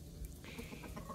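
A rooster clucks close by in a short burst of throaty, rapid sounds over a noisy background.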